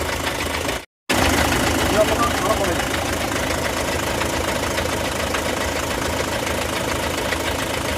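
A second-hand Eicher tipper truck's engine idles steadily and loudly close by, a dense continuous rumble broken by one brief dropout near the start.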